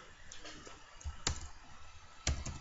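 Keyboard typing in Photoshop, a handful of light key clicks with two sharper, louder taps, close and quiet with no speech.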